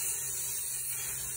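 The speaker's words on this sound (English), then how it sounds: "you're also going to give the top of the dough a spray" Cooking oil spray hisses in a steady, close burst over the top of cinnamon roll dough in a bowl, continuous and alone for just over a second.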